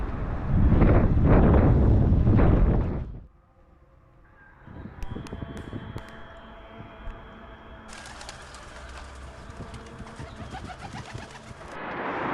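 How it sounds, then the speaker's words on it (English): Pigeons released from rooftops in Amman at sunset fly overhead. A loud rush of wind comes first, then faint cooing and scattered flutters drift in the open air. "everyone on their rooftops are letting out their pigeons to go fly"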